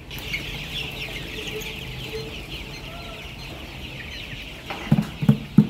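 A flock of colour-bird broiler chickens, about 22 days old, clucks on a farm in a continuous, close murmur, with a few louder, sharper clucks bursting out near the end.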